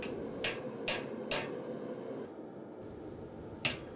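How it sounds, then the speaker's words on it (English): Hammer blows on a center punch marking the eye sockets of a forged steel animal head held in a vise: four sharp metallic taps, three evenly spaced, then a pause and a fourth, close and clear over a low workshop hum. "Now I'm going to use the eye punch or center punch first to mark his"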